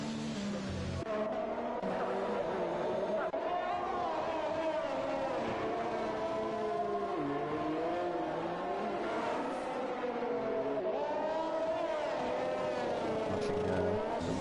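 Red Bull Formula 1 car in an F1 racing game at Baku, on worn intermediate tyres, droning steadily with a shifting engine pitch throughout, loud and continuous with no talk.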